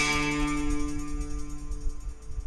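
A santoor-style trill on an electronic keyboard rings out as a bright struck sustained chord with a shimmering, chime-like flutter that fades under low rumbling noise, no voices present.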